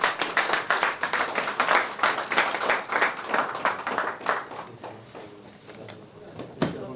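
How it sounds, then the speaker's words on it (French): A crowd applauds steadily, the clapping loud and dense at first, then thinning and fading toward the end. "On sera accompagné par des applaudissements."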